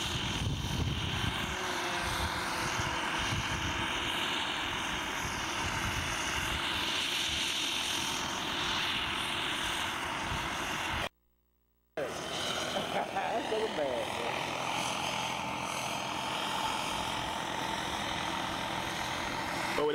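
A turbine-powered RC helicopter flies close to the ground, its steady loud whine and rotor roar filling the air with shifting pitch, broken by a brief dropout, while people talk nearby.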